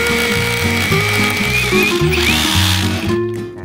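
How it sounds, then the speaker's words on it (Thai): An OSUKA OCRH852 rotary hammer bores into reinforced concrete, giving a loud, steady hammering drone with a rapid pulsing rhythm that runs throughout before easing off near the end. "ลองเจาะดูซะหน่อยนะ"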